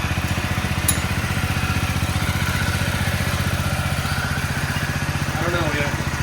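An old motorcycle with a troublesome throttle idles with a steady close-up rhythmic putter, the engine note shifting slightly as the throttle is worked.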